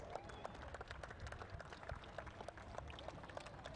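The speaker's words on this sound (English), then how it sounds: "Round of applause for the emerging players." An audience claps for emerging players at a junior league award ceremony in Sharjah, producing a faint, continuous patter of many hands that stays even in the distance and carries a few murmuring voices.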